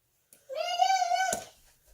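A single clear cat meow, close and tonal, rising slightly and lasting about a second in an otherwise quiet indoor room, followed by a faint bump.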